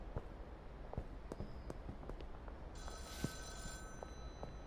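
A telephone rings in the video game Schedule 1, a bright electronic trill that starts partway through and runs to the end over soft footstep clicks and a low background hum.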